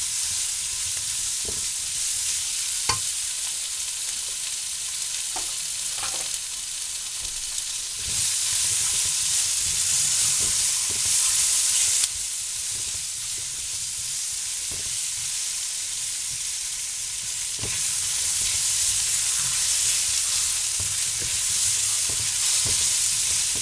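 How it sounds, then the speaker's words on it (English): Cold leftover mushrooms and onions fry in a hot pan with a steady broadband sizzle, while repeated scrapes and clacks of stirring break through every second or two, no talking. "I'm going to go ahead and add these cold mushrooms and onions"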